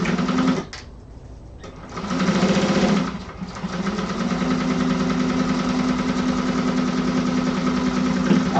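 A sewing machine stitches a lining in a sewing class, a steady mid-pitched whirring hum that pauses briefly near the start and then runs continuously and close.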